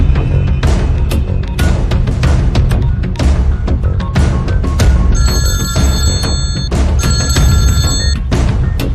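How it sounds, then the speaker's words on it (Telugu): A telephone rings loudly and repeatedly in a Telugu comedy film scene, its bell tones layered over dense background sound. "ఏయ్ దుగ్గల్ కి ఫోన్ కొట్టు."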